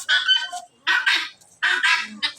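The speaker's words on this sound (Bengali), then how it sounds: "দেখেন এটা তিতি মুরগি" Guinea fowl and turkeys give loud, harsh, rapid calls in three close bursts separated by short pauses, nearby with no voices over them.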